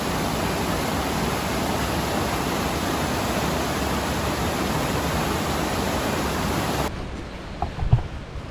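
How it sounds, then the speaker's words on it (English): A tropical Vietnamese waterfall roars as a loud, steady broadband rush, continuous for about seven seconds before dropping away abruptly to a quieter background with a few faint thumps. "Another waterfall."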